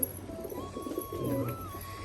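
A newly bought Rajshahi pigeon at home coos softly nearby, a low drawn-out phrase over faint background hum, with no talk.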